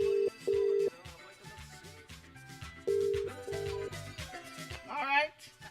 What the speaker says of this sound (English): You better answer your phone.